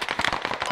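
A quick burst of video game gunfire: about seven sharp, fairly faint cracks fired in rapid succession within under a second.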